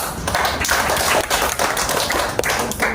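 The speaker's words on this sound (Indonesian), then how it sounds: "Tepuk tangan." Students clapping in an Indonesian classroom: a close, loud burst of uneven hand claps and taps from a small group, sustained for several seconds with no talking.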